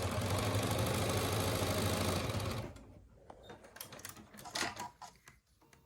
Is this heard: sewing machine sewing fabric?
yes